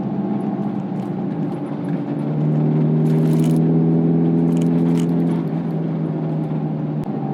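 Engine of a 2007 Mazda MX-5 Miata heard from inside while driving, a steady droning hum that rises in pitch and loudness as it revs midway, then settles back, with faint rattles and no talking.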